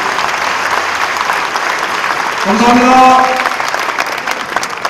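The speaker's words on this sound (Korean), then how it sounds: "다 같이 일어나셔서 박수 한번 해주시기 바랍니다" A standing assembly at a church denomination's 46th general meeting applauds together, a dense wash of clapping that swells near the end, with a brief spoken thanks over it.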